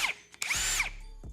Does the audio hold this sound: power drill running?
yes